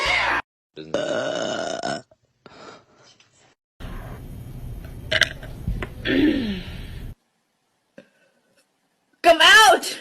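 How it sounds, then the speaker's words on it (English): A woman lets out several loud, croaky burps in separate bursts with silent gaps between, with people talking and laughing around them. "You sure you just can't do a burping contest?"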